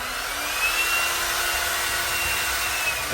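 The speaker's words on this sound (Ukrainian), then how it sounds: "Болгарка має дві батареї, 4 амперні 20 вольт. Включається," A Grosser cordless angle grinder on a 20-volt, 4-amp-hour battery runs with a steady, loud high whine that holds constant the whole time, with no talking.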